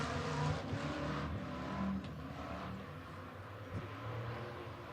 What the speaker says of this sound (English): Three of your 6 cars making the call here for the GT Midwest IMCA stock car hot lap session.